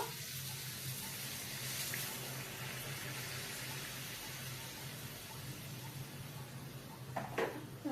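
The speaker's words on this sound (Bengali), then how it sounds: "এবার আমি জল দিয়ে দেবো।" Water poured into a cooking pot of gaati-kochu with prawns in a home kitchen, a steady close splashing flow that runs continuously, with a brief clatter near the end.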